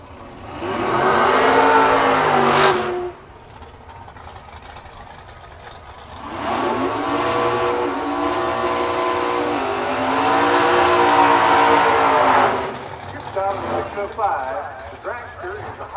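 At a drag race, a high-tech dragster and a 37 coupe rev their engines loudly in long, rising and falling bursts with pauses between, while an announcer talks over them.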